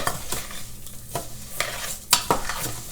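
Rice browns in a pan as a spoon stirs it, giving repeated scraping strokes over a light sizzle, with one sharper clink of utensil on metal partway through.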